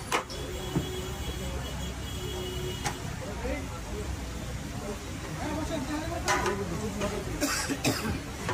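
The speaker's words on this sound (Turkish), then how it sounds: "adam bilerek öksürüyor" A man coughs a few times amid a busy indoor background, with people talking throughout.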